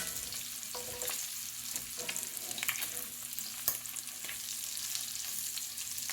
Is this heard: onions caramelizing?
yes